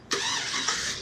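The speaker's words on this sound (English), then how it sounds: "cut the car on" A 2002 Chevy Tahoe engine cranks and catches, then settles into a steady running rumble close by, with a brief second surge partway through and no talk.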